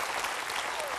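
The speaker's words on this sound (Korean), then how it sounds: "특히 저 외국 관객들의 그 기립박수가 아주 감격스러운데요" Standing ovation from a film audience, dense continuous clapping filling the whole moment, loud and close with a faint whoop rising near the end.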